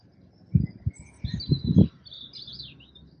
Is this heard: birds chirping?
yes